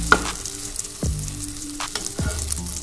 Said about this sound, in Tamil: கொஞ்சமாக ஆயில் சேர்த்துக்கோங்க. சேர்த்துட்டு அப்படியே நல்லா திருப்பி விட்டுக்கோங்க.